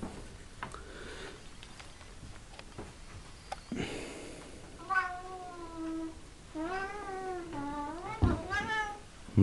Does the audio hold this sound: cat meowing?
yes